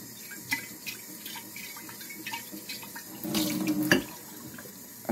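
Water runs steadily from a faucet to rinse out a pickle jar, splashing and gurgling in a sink. A brief louder gush comes near the end.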